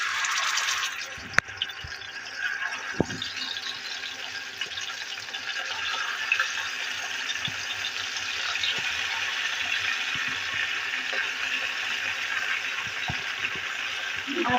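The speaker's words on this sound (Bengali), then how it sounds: "তেল গরম হয়ে গেছে, এখন মাছটাকে ছেড়ে দেবো আমি।" Poa fish, a pomfret-like fish, frying in hot oil in a pan, giving a steady broadband sizzle that runs throughout at moderate level, with a few small clicks and pops and no talk.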